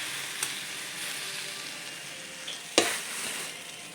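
Bitter ndolé leaves going into a pot of hot water on the stove, a steady simmering hiss with a sharp splash-like clatter near the end, close and moderately loud.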